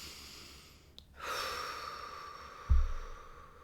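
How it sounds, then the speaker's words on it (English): A person draws a slow, deep breath, audible as a soft, sustained inhale with a quieter release, followed by a low thump near the end in a quiet room. "take a nice deep breath"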